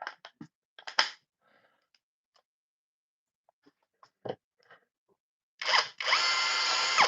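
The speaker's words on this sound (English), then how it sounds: "I gotta go back and forth on the stupid drill." A low-charge cordless power drill: a few short clicks and taps early on, then near the end a loud, sustained whirring motor run after a brief start.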